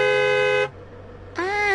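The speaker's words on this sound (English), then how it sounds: "honk the horn" A cartoon car horn sounds in two loud blasts, a steady tone that cuts out briefly and then starts again with a slight rise in pitch.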